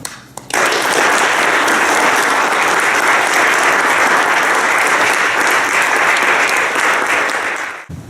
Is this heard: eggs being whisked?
no